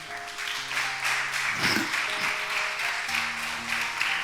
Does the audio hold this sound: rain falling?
no